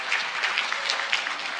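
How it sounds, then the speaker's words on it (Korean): Church congregation applauding the choir during a Korean service, a dense, steady wash of many hands clapping in a reverberant sanctuary, heard alone. "할렐루야 찬양대를 위해 박수를 한번 격려해 주시면 감사하겠습니다"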